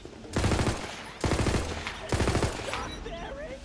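Three rapid bursts of SMG fire from Tiny Tina's Wonderlands, each roughly half a second long, loud and close with brief gaps between, followed by fading game sounds.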